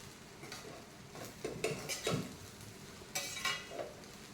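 Quiet, close pan cooking as egg is stirred into fried rice: a faint sizzle broken by irregular scraping and clinking strokes of a spatula against the pan, with no voices.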